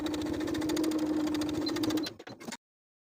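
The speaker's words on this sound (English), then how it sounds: "we're going to sew from the front of the garment, catching that folded edge as we go" A sewing machine runs steadily for about two seconds, stitching the folded edge of a vintage apron garment with a fast, even mechanical whir, then stops with a few short clunks before silence.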